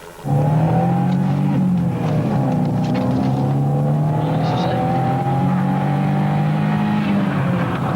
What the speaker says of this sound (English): the helicopter and a police patrol are pursuing a suspicious car, which has refused to stop